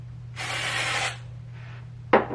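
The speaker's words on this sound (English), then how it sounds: "we're going to spray underneath here" An aerosol can of dry shampoo hisses as it sprays onto a section of hair at the crown: one long close burst, a softer shorter spray, then a brief sharp puff at the end.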